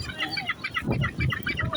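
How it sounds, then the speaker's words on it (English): Seagulls crying on a windy Blackpool seaside promenade, repeated squawking calls close by, with low gusty wind rumble underneath. "There's loads of them here, seagulls."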